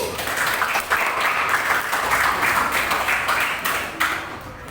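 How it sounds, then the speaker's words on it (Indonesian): Sustained applause from a class or workshop group for a presenting team, steady clapping that fills the whole stretch, fairly loud and close, with no talking over it. "Tepuk tangan untuk kelompok 1."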